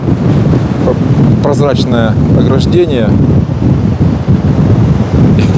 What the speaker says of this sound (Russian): сильно ветрено, несмотря на то, что все-таки тепло